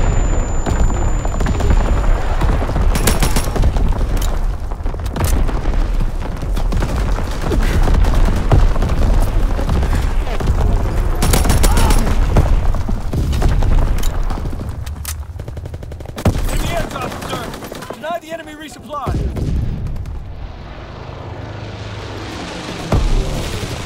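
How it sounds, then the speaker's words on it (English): Enemy artillery and gunfire in a Call of Duty WW2 battle keep up a loud, continuous barrage of booms, rifle shots and machine-gun bursts for most of the stretch, then thin out into scattered rumbling near the end. "Incoming enemy artillery!"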